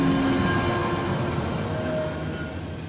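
A train carriage rolls and rattles with a dense, continuous rumble and steady clatter, used as a story sound effect of the train jolting to a stop; the noise eases slightly toward the end. No one speaks.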